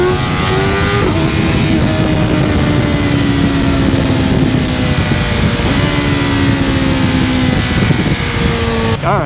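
A BMW M1000R motorcycle on its stock exhaust revs and accelerates, a loud, close engine note holding steady harmonics that step up and down through several gear changes, ending in a brief rising rev.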